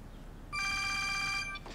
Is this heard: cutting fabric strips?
no